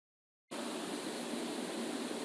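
Madhavaram waterfall near Aragonda in Chittoor district roars in a dense, constant rush of falling water that starts abruptly after a moment of silence and stays loud and steady.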